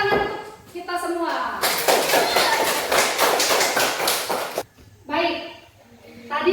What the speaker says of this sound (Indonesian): Oke, sekarang tepuk tangan untuk kita semua.